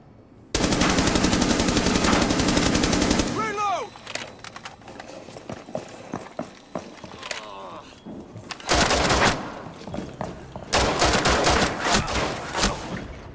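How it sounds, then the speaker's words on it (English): Rainbow Six Siege gunfire opens with a sustained, loud automatic burst, then falls into scattered single shots and quieter stretches before more rapid bursts return near the end. "Having the ability to pull the trigger and unleash a burst of lead into your opponent's head certainly helps"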